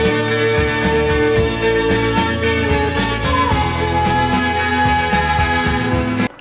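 Recorded song plays back, a dense full-band track with steady rhythm and sustained tones, loud and continuous until it cuts off abruptly at the end.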